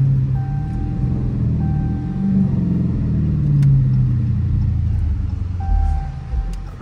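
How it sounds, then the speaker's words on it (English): A Dodge Challenger R/T engine rumbles steadily at low pitch, its revs rising and dropping as it downshifts, with a few faint beeping tones over the top. "Y'all hear them downshifts in there"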